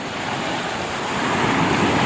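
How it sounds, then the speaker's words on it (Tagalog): Ocean surf washing onto a Fortune Island beach as the tide rises, a steady broadband roar that swells slightly louder toward the end, with wind noise and no voices. "lumalakas ng alon dahil maga-high tide na siya"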